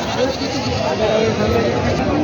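Goats and sheep bleat among the murmuring crowd of a large livestock market in Parbhani, Maharashtra, with the animal calls blended into dense, steady chatter and nearby voices.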